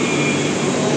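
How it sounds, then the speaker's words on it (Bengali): A Blue Line north–south metro train pulls out of a station on the Airport–Noapara route, a steady loud rumble with a low hum lasting throughout, no voices. "ব্লু লাইন বা উত্তর দক্ষিণ শাখার মেট্রো ছাড়ছে এখান থেকে।"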